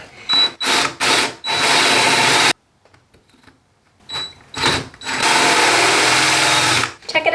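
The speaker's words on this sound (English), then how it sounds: "I can actually see the edge of this hole, so I'm just gonna drill it out." A high-pitched power drill bores a hole through a fiberglass boat hull, whining in short bursts, stopping for a quiet pause, then starting again and running steadily, close by.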